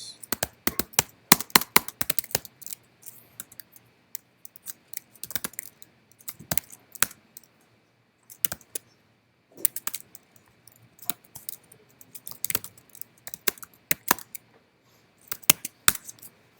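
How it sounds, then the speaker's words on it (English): Keystrokes on a computer keyboard during a programming session, sharp clicky taps in quick clusters separated by brief pauses, close and clear against a quiet background. "Those are the keystrokes that I type into that program."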